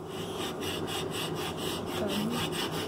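A hand rasp shapes a pine block for a pinewood derby car in quick, rhythmic scraping strokes, about three per second, close and steady throughout.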